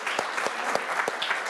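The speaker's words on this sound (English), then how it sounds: "Give them a round of applause, ladies and gentlemen." A studio audience at a National Lottery draw show applauds steadily, a close, even patter of many hands with a few sharper claps standing out.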